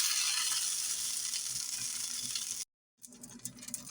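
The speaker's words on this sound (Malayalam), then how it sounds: "ഇനി സെയിം പാനിലോട്ട് 5 ഉള്ളി നമുക്ക് വഴറ്റിയെടുക്കാം." Shallots, garlic and dried red chillies sautéing in a pan for a Kerala-style brinjal chutney, a loud steady hiss that cuts out briefly near the end, then resumes more quietly.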